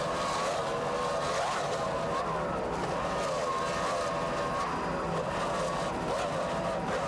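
Racing powerboats pound across rough Gulf of Mexico water at the 1994 South Padre Island Grand Prix, with a continuous loud engine roar whose pitch rises and falls as the boats pass.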